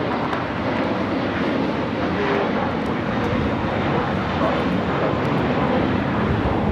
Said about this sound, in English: This is American Airlines 1230 taking off to Dallas Fort Worth on the A321